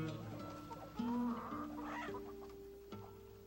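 Chickens cluck softly at a fish farm where poultry are kept over ponds, several low clucks and short calls scattered over a quiet, slightly distant background.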